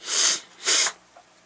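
Two sharp, close sniffles through the nose, one after the other, followed by a faint breath.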